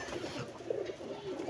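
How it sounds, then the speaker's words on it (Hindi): Pigeons or doves cooing outdoors where many birds, including kites, gather overhead, with soft low calls repeating under steady ambient noise, no talking. "ये देखें जरा सारे परिंदे ऊपर निकल गए हैं"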